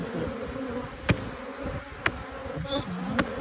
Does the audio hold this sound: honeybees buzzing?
yes